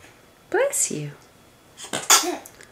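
Two quick baby sneezes pop out about a second apart, each a short breathy burst close up in a quiet room.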